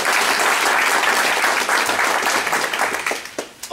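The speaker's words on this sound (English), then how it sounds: "Let's give Randy a round of applause, folks" A meeting audience breaks into steady applause, dense and sustained, thinning slightly toward the end.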